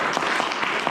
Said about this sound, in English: So a big round of applause to all of them.